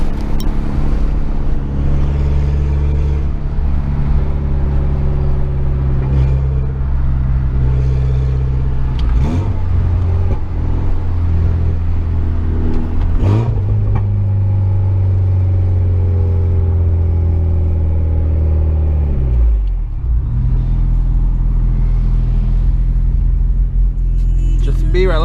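A 2014 Mitsubishi Lancer Evolution X drives with its exhaust dump valve open, giving a loud, steady engine drone that swells in revs and shifts pitch several times over its length, with a voice speaking over it.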